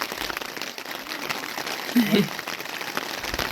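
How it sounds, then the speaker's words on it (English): Steady rain in a video game, a dense even hiss of drops falling throughout, with a brief louder thump partway through and talk nearby. "it's raining"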